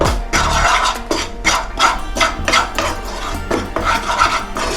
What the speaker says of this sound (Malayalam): പിന്നെ കുറച്ച് മല്ലിപ്പൊടി ഇതൊക്കെ ഒന്ന് നല്ല രീതിയിൽ ഒന്ന് ഇളക്കി ഒന്ന് ചൂടാക്കി ഇളക്കി ആക്കണം